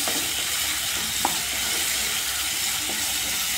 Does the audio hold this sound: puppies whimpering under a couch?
no